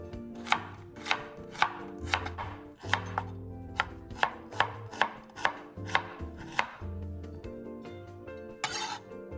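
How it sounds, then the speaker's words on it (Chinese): Half an onion, about 50 grams, is chopped finely with a knife on a board, giving a quick, regular series of crisp, close, loud chops with no talking. "洋葱半个，约50克重，切细。"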